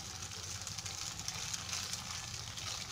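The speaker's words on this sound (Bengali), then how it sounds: "মুরগির মাংসটা একটু ভেজে নিচ্ছি তেলের ওপর" Chicken meat frying in hot oil in a pan, a steady, even sizzle with soft crackles throughout, close and continuous with no talking.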